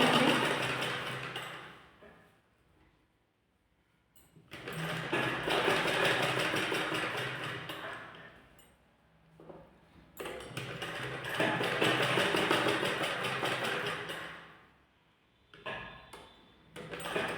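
A sewing machine stitches lace onto a blouse in a bird design, running in two long loud bursts separated by pauses, with a brief third start near the end and no talking.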